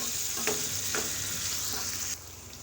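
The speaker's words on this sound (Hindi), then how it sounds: "3 मिनट अब और हमने इसको फ्राई कर लेना है।" Bottle gourd fries in a pan with ginger garlic paste, giving a steady close sizzle with a few soft stirring scrapes; the hiss drops lower near the end.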